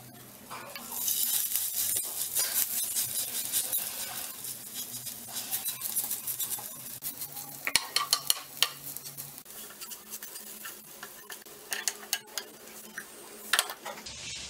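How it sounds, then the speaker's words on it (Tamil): Millet roti cooking on a hot pan, flavored with curry leaves, gives a steady soft sizzle with scattered clicks and scrapes of utensils against the pan, close by and with no talk. "நம்ம இப்போ ரொட்டி சுடலாம்."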